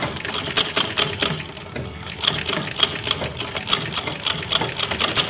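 Sewing machine stitching a Japanese zipper onto a kebaya dress, rapid rhythmic needle clatter in bursts, close and fairly loud, with no talking.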